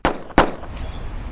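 Two sharp, loud gunshot-like cracks in quick succession, close by, each followed by a brief ringing decay.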